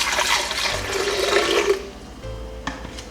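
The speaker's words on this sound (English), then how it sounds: "So into my blender goes some water." Water gushes and pours steadily into a blender for a couple of seconds, then stops, leaving a quiet hum and a few small clinks.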